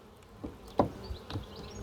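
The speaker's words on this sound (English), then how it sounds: "So this has got a lot of bees on here right now" Honey bees buzz in short, faint passes around a crowded hive frame, a few brief close drones rising over a quiet background.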